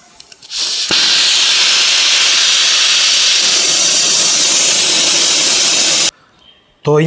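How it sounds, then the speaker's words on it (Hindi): An oxy-acetylene gas welding blowpipe flame lights with a pop, then roars and hisses loudly and steadily for about five seconds before cutting off abruptly. "हम देख रहे हैं कि ब्लो पाइप के टिप पे ज्वाला उत्पन्न हो चुका है"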